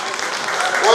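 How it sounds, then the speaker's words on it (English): Audience applause at a Yoruba Day celebration, a brief wash of clapping that swells toward the end, with a voice speaking over it. "Please give them a round of applause for Adini."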